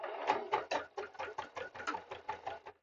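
A sewing machine runs in short rhythmic bursts of stitching, about a dozen quick pulses close to the microphone, while exterior panels are batch-sewn ahead of a market; no one speaks.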